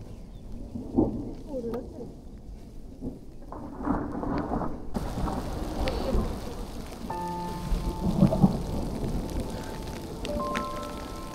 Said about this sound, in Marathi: विजांचा आवाज पण जरा वेगळा आहे. ते सगळ्या डोंगरातून व्हॅलीमधून आवाज घुमतो ना